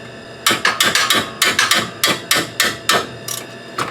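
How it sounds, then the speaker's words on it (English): Rapid hammer blows on the front lower control arm of a 1994 Saab 9000, about fifteen loud, close metallic strikes landing in quick uneven bursts with short pauses between groups. "probably gonna need a hammer"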